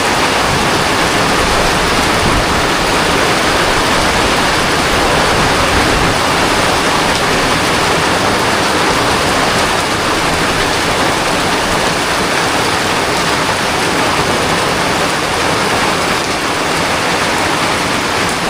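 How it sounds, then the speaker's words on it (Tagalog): Heavy rain pours down without letup during a flood, a loud, dense, continuous roar of water close by with no voices over it. "Grabe ulan, oy. Lakas."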